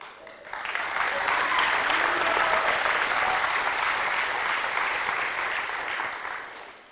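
A large crowd at a 2005 Poland Regional High School graduation ceremony breaks into loud, sustained applause that swells quickly and holds steady for several seconds, with a few voices mixed in.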